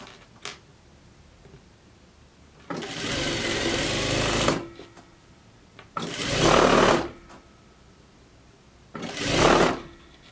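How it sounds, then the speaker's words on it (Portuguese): An overlock sewing machine finishes a fabric seam in three loud bursts of whirring stitching: a long run of about two seconds, then two shorter runs, with quiet pauses between them. "Aqui eu estou fazendo acabamento com overlock"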